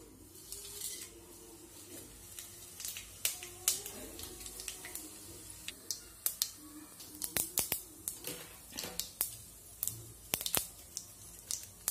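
Whole spices tossed into hot oil for tempering veg pulao, giving a steady bed of frying sizzle broken by sharp, scattered crackles and pops that cluster in quick bursts, close and fairly quiet, with no talking.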